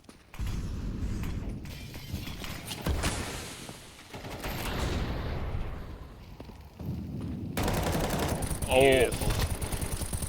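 Rifle and pistol fire from a competitive first-person shooter match in a grand final, heard as bursts of gunshots mixed with game effects under excited casters' commentary.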